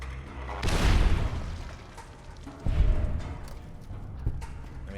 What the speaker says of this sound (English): I mean, at least technically the explosions hit him also.